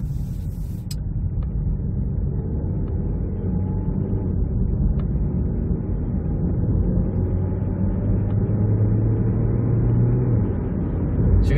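A 2017 Kia Niro with an aftermarket Ghost Alpha exhaust pulls hard, a steady low engine rumble and droning exhaust tone that rises slightly as it accelerates, heard from inside the car with no talk.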